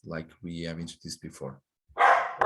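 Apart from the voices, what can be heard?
dog barking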